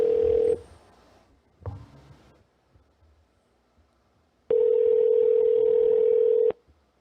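Telephone tones during a callback, a loud steady tone cutting off, a short burst, then another sustained tone of about two seconds, close and clear with no talking.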